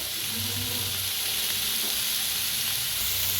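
Onion frying in a pan, a steady soft sizzle and hiss at low volume, continuous and close with faint stirring, no talking.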